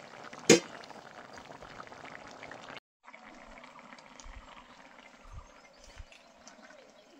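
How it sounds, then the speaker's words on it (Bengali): Potatoes boiling in a pot of water on a home stove, a steady bubbling hiss with one sharp clank near the start and a brief break partway through, low thumps underneath. "আলু সেদ্ধ হয়ে গেছে,"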